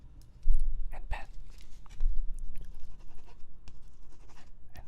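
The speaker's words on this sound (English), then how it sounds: "a whole video of pen to paper sounds" Pen scratching across paper, a run of short textured strokes and taps that come through fairly close and clear, with no talking over them.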